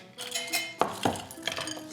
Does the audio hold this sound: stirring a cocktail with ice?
yes